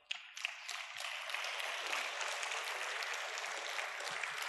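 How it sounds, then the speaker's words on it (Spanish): Applause from a Spanish-speaking church congregation during a sermon rises quickly and holds as a steady, fairly faint wash of many clapping hands without talk. "Fuerte aplauso."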